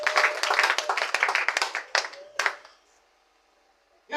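At a church worship celebration, the congregation claps together in a brisk, rhythmic beat. The clapping tapers to a few last claps and then near silence.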